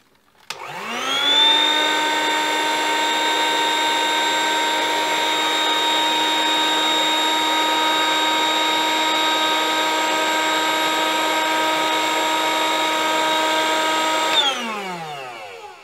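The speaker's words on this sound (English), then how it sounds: "What we're going to do now is suck the air from the bag and then heat seal it." A home vacuum sealer pumps air out of a bag of home-cured pork loin bacon, a loud steady mechanical whine that starts abruptly, holds for about thirteen seconds, then winds down at the end.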